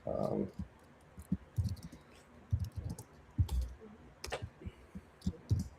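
Someone types on a computer keyboard during a live coding session: faint, irregular clicks and taps come in small clusters against a quiet room, with low voice-like murmurs in the background.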